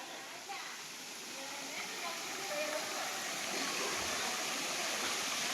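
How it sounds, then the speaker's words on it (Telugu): The Bhairavakona waterfall flows gently at a normal level, giving a steady, broad rush of falling water throughout, with faint children's voices in the background. "నీళ్ళు అయితే చాలా స్లోగానే పడుతున్నాయి అంత హెవీగా అయితే జలపాతం ఏమీ పొంగట్లేదు"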